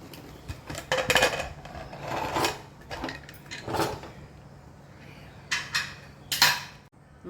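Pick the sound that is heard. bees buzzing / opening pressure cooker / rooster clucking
opening pressure cooker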